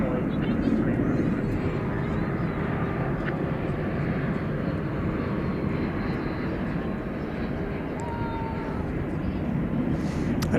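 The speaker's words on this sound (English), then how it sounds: "it's kind of winding its way to runway 18 left for takeoff" An airliner taxiing toward runway 18 left at DFW Airport at night, a steady low engine rumble and whine heard from a distance, with faint background sounds throughout.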